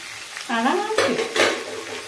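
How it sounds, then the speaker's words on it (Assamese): Onions fry in a pan beside chicken leg pieces, with a sizzle under brief stirring and scraping of a utensil against the pan over a couple of seconds. "আৰামকৈ মই পিঁয়াজখিনি ইয়াতে দি দিলোঁ। এইখিনি মই ইয়াতে ভাজিম।"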